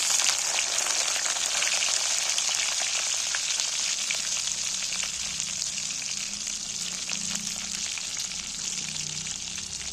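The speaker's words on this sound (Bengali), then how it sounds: "তেলের মধ্যে বেগুনগুলো দিয়ে দিন" Eggplant pieces fry in oil with fried cumin seeds, a steady, bright sizzle and soft crackles, close and constant, with no talking.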